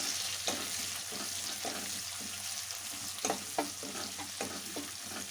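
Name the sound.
onions and curry leaves frying in a pan for radish curry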